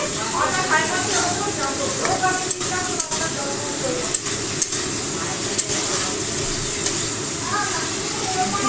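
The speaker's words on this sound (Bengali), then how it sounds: "জিরে গুঁড়ো ধনে গুঁড়ো লঙ্কার গুঁড়ো হলুদ গুঁড়ো নুন দিয়ে মশলাটা কষে নিচ্ছি" Ground cumin, coriander, chili, turmeric and salt fry in a pan with a steady, close sizzle and hiss, broken by a few sharp stirring clicks, while a voice talks over it.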